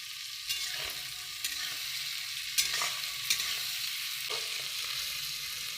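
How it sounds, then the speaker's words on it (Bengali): Spring onion leaves frying in a pan, giving a steady, close sizzle with a few sharp stirring clicks and scrapes spread across the clip and no voices. "পেঁয়াজ পাতাগুলো হালকা করে একটু ভেজে নেব"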